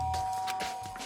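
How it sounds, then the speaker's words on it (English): A doorbell chime in the Danganronpa: Trigger Happy Havoc video game sounds once, a soft tonal ring with a steady held tone and faint background hum, no talking. "I press the doorbell."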